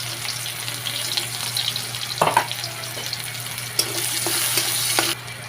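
Sliced onions fry with potato and pointed gourd in a pan, a steady broad sizzle with a few sharp scraping stir clicks and a low hum beneath, no talking.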